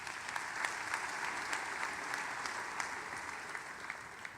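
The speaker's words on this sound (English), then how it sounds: "Give yourself a round of applause." A law school graduation audience at the University of Louisville applauds, a dense, steady wash of many hands clapping that holds at an even level throughout, with no voices standing out.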